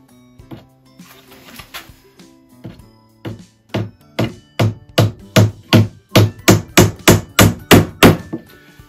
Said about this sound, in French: Je prends mon petit marteau.